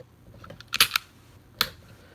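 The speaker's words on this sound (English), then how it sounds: "very powerful slide going forward" Taurus G2 Millennium 9mm pistol with a strong recoil spring, its slide racked and snapping forward in a few sharp metallic clacks, close and fairly quiet, followed by a single crisp snap.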